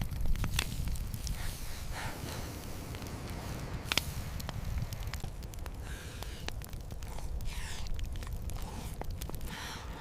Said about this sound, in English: On the open shore, a fire crackles against the wind.